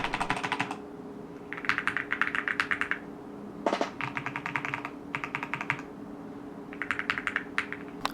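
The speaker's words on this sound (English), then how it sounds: "a quick keyboard sound test." Keys clack on a water-cooled cyberdeck computer keyboard in close, rapid bursts of typing with short pauses between runs and one sharper single thump midway, over a faint steady hum.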